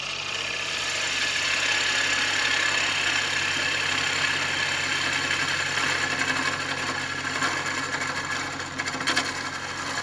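A gouge cuts into a bocote bowl on a wood lathe, a steady whirring hum of the spinning machine with a continuous scraping texture, moderately loud and unbroken throughout.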